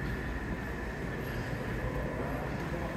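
A Times Square shuttle subway train rumbles along in a steady, loud, dense roar with a faint high squeal on top.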